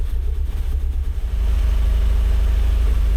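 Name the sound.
Mazda Miata engine idling with a slight stumble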